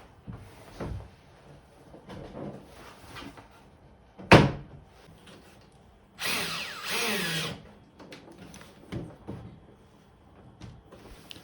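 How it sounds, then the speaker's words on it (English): A power drill drives a couple of screws to hold a part in a DIY retro arcade cabinet. There is one sharp knock, then a whirring drill burst of about a second, set among scattered handling clunks and taps. "then we just put a couple of screws in. That should hold it in place."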